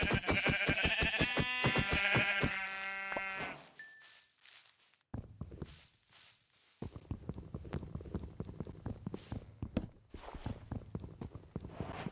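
Sheep bleating in the video game Minecraft, a loud, wavering baa at close range, then a short gap and a string of clipped in-game clicks, steps and thuds that carry on to the end.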